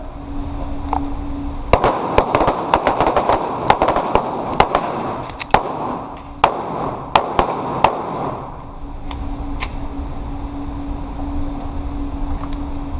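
Taurus G2C pistol shots at Royal Range Nashville during a defensive pistol class: a burst of sharp, loud reports in quick clusters, then a few spaced single shots over a steady low hum.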